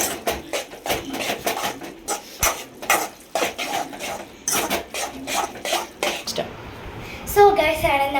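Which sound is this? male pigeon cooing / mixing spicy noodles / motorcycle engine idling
mixing spicy noodles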